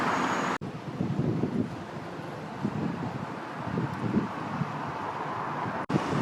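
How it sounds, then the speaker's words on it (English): Steady wind buffets the microphone outdoors in Burnley, a continuous rough roar with gusty surges and faint traffic beneath. "Windy."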